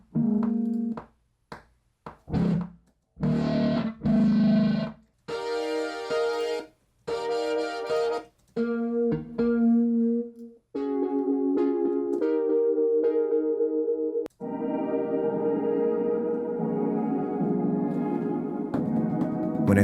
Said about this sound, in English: I want to find some cool synth sounds to go with it too